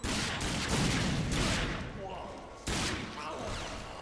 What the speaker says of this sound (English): So the strat for this part is we throw a nade here.